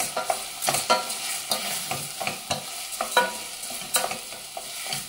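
Risotto rice toasts in a pan with pumpkin and a splash of vegetable broth, a soft continuous sizzle cut by repeated close spoon scrapes and stirring strokes at an uneven pace, with no voices.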